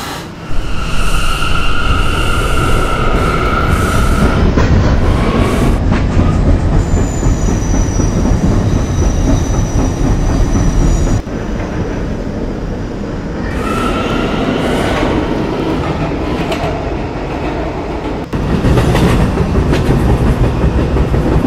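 R179 B subway train in a Roblox game running along the line, a loud continuous rumble with clickety-clack and wheel squeal, a few high tonal whines and chimes, and sudden shifts as the train passes through different sections.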